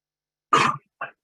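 A single sharp sneeze bursts out close to the microphone, followed half a second later by a shorter, softer second burst, heard during a quiet online business-lending webinar.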